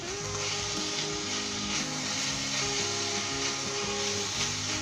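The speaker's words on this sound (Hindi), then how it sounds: "अब हम इसे तेज़ आंच पे स्टर फ्राई करेंगे 5 मिनट के लिए" Vegetables, cabbage among them, sizzle in a hot pan over high heat, a continuous hissing fry with faint scraping and a steady hum underneath, no talking.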